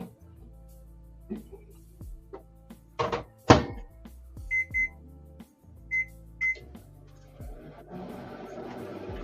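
A microwave oven in a basement gives a short run of electronic beeps in two pairs, with door thunks and clatter around them, over a low steady hum.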